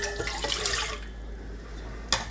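Water poured into a bowl with two eggs for Maultaschen pasta dough: a brief close splashing pour lasting about a second, then a quiet kitchen with a faint clink at the end.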